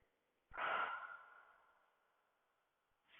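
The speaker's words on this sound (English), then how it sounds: "Maybe breathing in and then exhaling through the mouth." A single slow exhale through the mouth during a yoga class, rising quickly to a breathy rush and then fading gradually over about two seconds, close and alone, with a faint new breath starting at the end.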